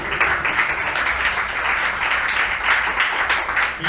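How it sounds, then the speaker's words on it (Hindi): A church congregation applauds loudly during a Hindi sermon, a dense, steady wash of clapping that fills the whole stretch without pause. "कितने लोग यीशु के क्रूस के लिए जोरदार ताली बजाएंगे?"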